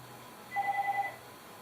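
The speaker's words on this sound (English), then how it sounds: "the phone rings" A telephone gives one short electronic ring, faint and somewhat distant, with a single warbling burst lasting about half a second over a quiet room hum.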